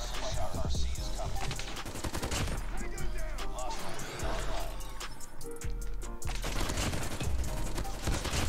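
Rapid automatic gunfire from a newly added gun in the video game COD Mobile, dense bursts of shots continuing almost without pause, with short gaps between volleys.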